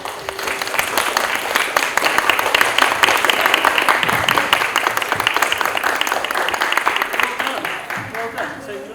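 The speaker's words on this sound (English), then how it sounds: "a round of applause, I feel, for everyone involved in the project, including yourselves" A school celebration assembly audience breaks into sustained, loud applause, dense clapping from many hands filling the hall for several seconds without pause.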